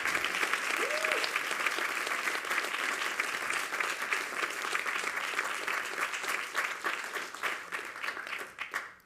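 A poetry reading audience applauds the performer Dora with steady, dense clapping that holds for about nine seconds before tapering off at the end.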